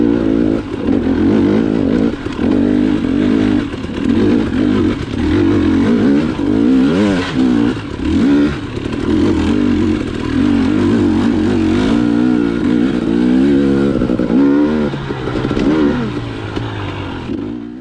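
A dirt motorcycle powers up a tricky, loose hill climb, its engine loud and close with steady revving and throttle surges that rise and fall throughout, and no talking over it.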